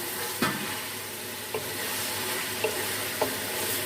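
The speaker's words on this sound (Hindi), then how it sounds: "2 मिनट के लिए हम गोश्त को प्याज में फ्राई कर लेते हैं।" Mutton pieces fry with onions in a pot for pulao, giving a steady low sizzle with occasional spoon clinks against the metal as it is stirred, and no talking.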